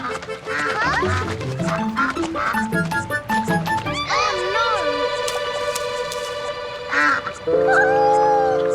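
Cartoon duck Beaky quacks amid bright, busy music and other barnyard animal calls, loud and continuous in a children's animated show.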